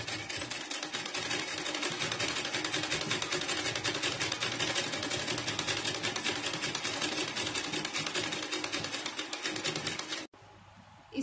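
A sewing machine stitches the neck of a saree blouse with a steady, rapid mechanical clatter for about ten seconds, then stops abruptly.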